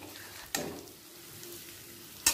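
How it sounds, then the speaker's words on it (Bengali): A soft, constant sizzle of onions frying in oil, interrupted by two brief scrapes of a spoon against the pan. "ছোট বার্নারে পেঁয়াজটা আমি আর একটু ব্রাউন করে ভেজে নেব"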